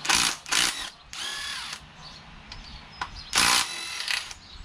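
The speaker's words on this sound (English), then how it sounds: "we're gonna take the sump bolts out" Power drill or impact driver backing the sump bolts out of a Kohler Courage 19 HP twin-cam engine, several short loud whirring bursts with brief pauses between them, close by and with no talking.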